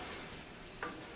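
A pan of chicken Alfredo is stirred in one brief pass, a soft scrape over a steady low sizzle, close by and quiet, with no voices.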